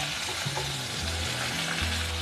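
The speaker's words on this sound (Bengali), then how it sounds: "তো প্রথমে পটলগুলো দিয়ে একটু ভেজে নেবো" Pieces of pointed gourd sizzle in hot oil, a loud close frying hiss with stirring clatter and a few tonal scrapes of utensil on pan.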